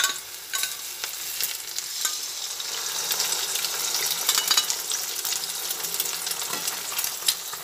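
Two eggs frying together with chopped onion, garlic and green chilli in a pan for egg chowmein, with a steady close sizzle and occasional scraping stirs throughout.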